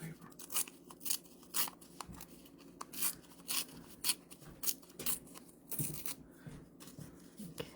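Repeated short crisp tearing and ripping of paper, near and moderately loud, in a steady series of bursts, with a voice briefly heard in the background.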